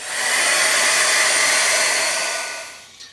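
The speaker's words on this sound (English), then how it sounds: "I've just dried them with the heat gun so that they've bowed a little bit" A heat gun drying painted paper figures at a craft table, a steady loud airy whoosh that holds for a few seconds and then winds down, close and alone.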